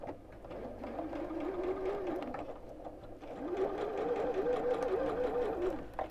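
A sewing machine runs steadily, stitching a quilt block, and pauses briefly midway before resuming with a faster, rhythmic whir.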